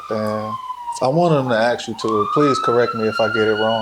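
Ambulance siren wailing outside in Cleveland, its rising and falling tone running loud through the whole stretch while people talk over it indoors.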